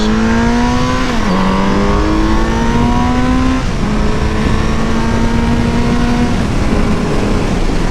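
A Kawasaki Z900RS motorcycle engine drones loudly and steadily on a night ride, its pitch climbing through gears with brief dips at shifts, backed by constant wind rush.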